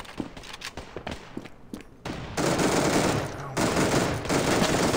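Gunfire in the mobile shooter Standoff 2 during a gun game match: scattered close shots at first, then dense, loud bursts of automatic fire that run almost continuously, with brief breaks between strings.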